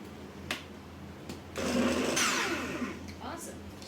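A blender grinds charred, seared tomatoes and garlic for birria, starting after a few small clatters and running loud and steady for about two seconds before easing off, close by with no talk over it.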